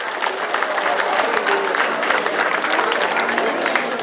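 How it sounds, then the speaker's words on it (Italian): Crowd applause in an outdoor town square during a local song festival, dense and continuous clapping with a faint murmur of voices underneath. "In piazza, fatevi un applauso."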